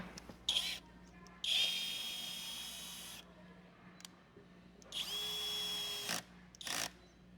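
A small 12-volt installation driver drives screws, whirring in several bursts, some short and some a couple of seconds long, with quiet pauses between them.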